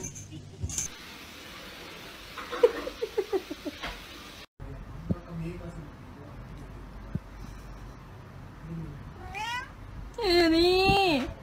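A pet cat meows several times, faint and scattered at first, then a few loud, drawn-out meows close by at the end, with household noise and a break in between.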